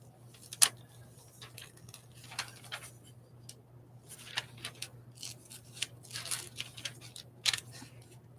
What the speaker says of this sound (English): Let me find my other scissors. Let's start by cutting a little bit of this out